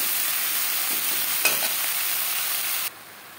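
Pumpkin stalks are stirred and mixed with ginger and green chili paste in a hot pan, producing a dense, even hiss and crackle that cuts off abruptly near the end.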